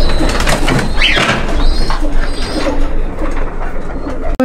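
Imported red-eyed pigeons coo close by over a dense, noisy background.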